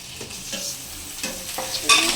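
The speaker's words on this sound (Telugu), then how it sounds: "బాగా కలుపుకోవాలి" Tomatoes being stirred in a hot pan, with a few distinct scraping strokes over a steady close sizzle that brightens sharply near the end. No voices.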